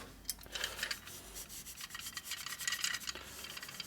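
A cloth or pad rubs and polishes the soft chrome of a 1947–54 Harley-Davidson panhead tombstone taillight, faint scratchy back-and-forth strokes in an irregular rhythm, close up with no talking.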